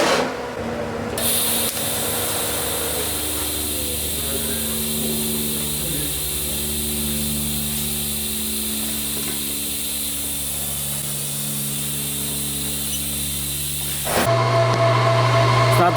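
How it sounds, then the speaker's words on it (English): Metal welding by a beginner joining two pieces: a loud, steady hissing, buzzing arc that runs unbroken for most of the stretch, close by, with no speech over it. "Should I weld on this side here?"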